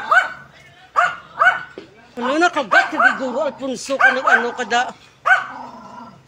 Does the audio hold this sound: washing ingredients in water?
no